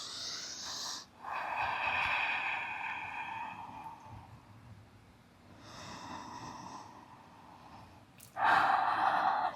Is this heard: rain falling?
no